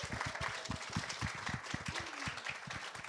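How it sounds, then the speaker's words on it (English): An audience at a Cannes industry talk applauds, a moderate patter of many hands clapping at once, fairly even and sustained throughout. "Let's give her a round of applause."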